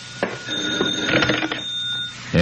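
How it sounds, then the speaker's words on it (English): Old-time telephone bell ringing in a radio drama, a sustained metallic trill with short bursts, fairly loud and close, with no voices over it. "And then the phone rang."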